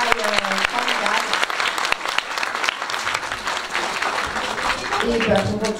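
Enthusiastic audience applause for a hip-hop dance teacher fills the hall, a dense, continuous clatter of many hands, with voices calling out and speaking over it.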